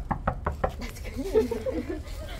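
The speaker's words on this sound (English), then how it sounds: "Bang on the door." Several quick knocks on a heavy door, four sharp raps in a row near the start, followed by people talking nearby.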